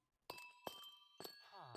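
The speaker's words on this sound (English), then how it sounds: "if you walk on them, they produce a really cool chime" Footsteps on amethyst blocks in Minecraft set off bright, ringing crystalline chimes, three or four separate tones that each decay slowly, with a sliding shimmer at the end.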